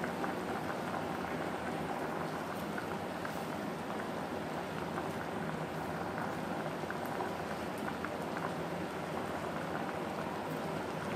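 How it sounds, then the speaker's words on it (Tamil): Chickpea kuzhambu curry with tamarind and coconut bubbling at a steady boil in a pot, a dense continuous hiss and fizz of simmering liquid with no talk. "இப்போ நல்லா கொதிச்சிருச்சு"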